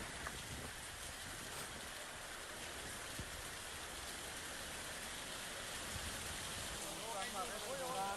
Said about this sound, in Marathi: ढगफुटी सदृश्य पाऊस झाला